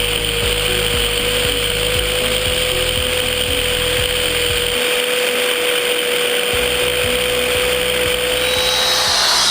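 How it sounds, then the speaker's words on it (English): A glass resurfacer polisher runs loud and steady throughout, a continuous motor whine with a rhythmic low pulsing that briefly drops out midway before resuming. "And so you turn the polisher on."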